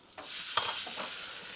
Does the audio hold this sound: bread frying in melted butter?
yes